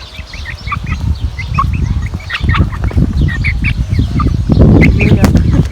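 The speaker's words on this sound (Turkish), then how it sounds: "Bu horoz bence ha." Chickens cluck and a rooster calls amid a busy village barnyard, with people chattering and laughing close by throughout.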